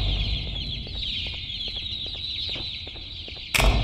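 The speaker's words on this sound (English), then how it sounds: "All right, here's the next chicken." Chicken clucking in the video game Garten of Ban Ban 2, a rapid string of short clucks and squawks running steadily over a game backdrop, with a louder burst of sound at the very end.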